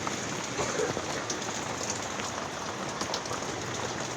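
Steady heavy rain pouring down, a dense continuous hiss of drops drumming on a surface, loud and close with no pauses.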